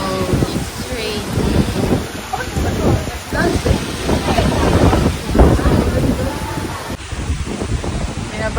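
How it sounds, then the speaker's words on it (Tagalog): Heavy rain and strong wind during a storm on Boracay island, a dense steady roar with wind buffeting the microphone throughout, while people talk over it. "It's raining."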